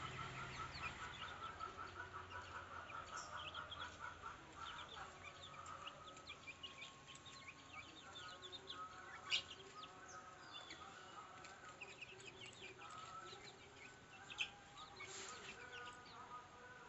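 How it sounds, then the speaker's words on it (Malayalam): Month-old native chicken chicks, hatched by a brooding hen at home, cheep and peep in scattered, overlapping calls, fairly faint with a steady background hum and a couple of sharper peeps. "ഇതെൻ്റെ വീട്ടിൽ അട വെച്ച് വിരിയിച്ച നാടൻ കോഴി കുഞ്ഞുങ്ങളാണ്"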